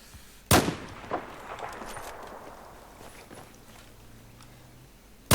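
In Battlefield 4, a single sharp, loud sniper rifle shot cracks out, followed by a softer shot and fainter echoing reports, then another sharp burst at the very end.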